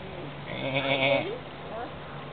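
A goat at a winery gives a single wavering bleat, fairly close and clear, over steady background noise.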